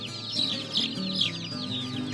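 Several hens and roosters, about 13 hens and 3 roosters, cluck and a rooster call rises over steady low hum, busy overlapping poultry sounds from a nearby coop.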